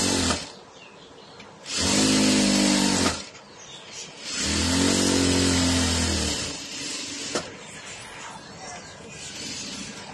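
A sewing machine stitches fabric in two long, loud whirring runs with short pauses between them, then softer fiddling and handling noises afterward.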